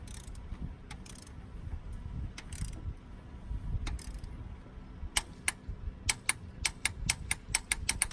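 Torque wrench tightening cylinder head bolts on a 1988 Starion engine: low mechanical rumble with scattered faint clicks, then a quick run of crisp, evenly spaced ratchet clicks toward the end.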